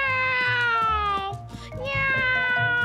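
A voice imitates a cat's meow, a drawn-out tonal mew sung twice in a row, close and fairly loud.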